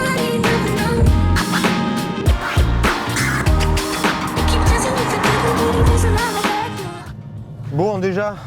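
A Renault Mégane RS 300 driven on the road in normal mode, its engine droning steadily from inside the cabin with shifting tones and gear changes, while people talk over it throughout.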